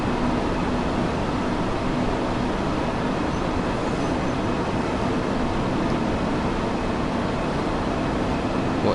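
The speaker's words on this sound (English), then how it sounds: "I do like the sound of this thing slowing down." Train in the Train Sim World 2 game slowing down, a steady broadband rumble of wheels and running gear that holds at a constant loud level for the whole stretch, with no voices.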